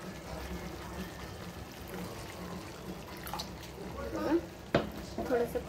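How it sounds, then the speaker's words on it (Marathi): Water is poured into a simmering paneer gravy in a pan, making a soft, quiet trickling stream with a few small splashes and clinks toward the end. "तर यामध्ये मी थोडंसं पाणी घालून घेणार आहे."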